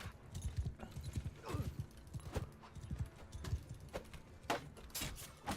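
Horse hooves in the video game Mount and Blade 2 keep up a steady, fast galloping clip-clop, moderately loud and continuous, with faint clatter of battle in the background and no talk.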